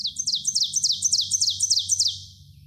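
An ovenbird sings close by, a rapid series of about eight bright, emphatic repeated phrases building in a steady rhythm, with a faint low rumble underneath.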